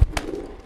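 A pigeon coos in short low bursts, close and fairly loud, a small bird bought at a market.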